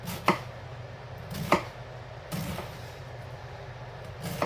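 A knife chopping vegetables for coleslaw on a wobbly cutting board, three or four sharp, spaced strikes over a low steady background hum.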